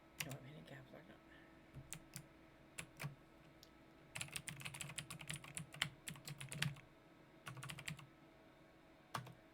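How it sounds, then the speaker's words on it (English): Typing on a mechanical keyboard at a home desk: bursts of quick, crisp key taps in irregular runs, close and fairly quiet, with pauses between flurries. "I have a mechanical keyboard and I cannot do anything about the tapping."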